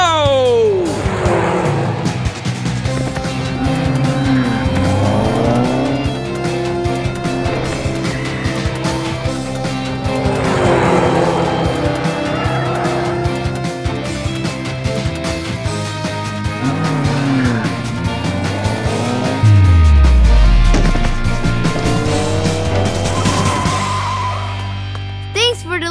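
A cartoon race car speeds along with its engine revving and tires skidding, loud and continuous over music and effects, with a sharp descending swoop near the end.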